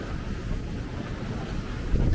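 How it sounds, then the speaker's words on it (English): Strong wind gusts across Old Orchard Beach in Maine on a rainy day near the pier and arcade, a steady low roar of wind buffeting the microphone with no talking. "Yeah, it's really windy through here."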